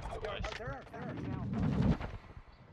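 Gunfire during a Call of Duty ranked match, with rapid automatic bursts and sharp shots mixed with players talking excitedly over the top throughout the short stretch.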